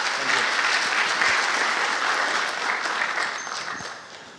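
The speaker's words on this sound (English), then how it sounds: "Please give them a round of applause" An audience applauds after a network security conference talk, sustained dense clapping filling the room and fading slightly toward the end.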